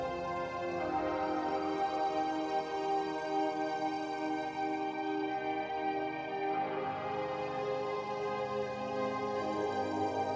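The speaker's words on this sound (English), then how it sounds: "Sort of a bass organ sound." A synthesized bass organ tone sustains evenly, with rich stacked harmonics and slow chord shifts under soft background pads, with no voices.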